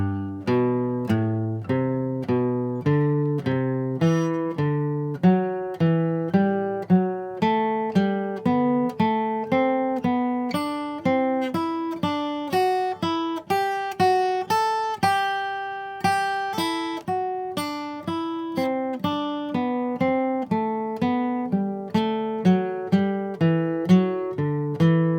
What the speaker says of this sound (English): what ends up happening here is you're climbing up the scale in thirds